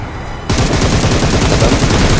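A mobile shooter video game's gunfire: after a brief quieter moment, a sustained, loud, rapid burst of automatic weapon fire with no talk.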